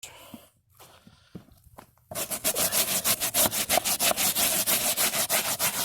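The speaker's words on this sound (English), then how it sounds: "Grab my stiff bristled brush." Stiff bristle brush scrubbing car carpet, a quiet start with a few scuffs, then loud rapid back-and-forth strokes in steady rhythm for several seconds, close up with no talking.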